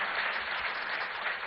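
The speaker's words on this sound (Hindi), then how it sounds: "एक बार जोरदार तालियों से स्वागत करें" An audience at a political event applauds in a dense, even wash of clapping that holds steady from start to end, with no voice over it.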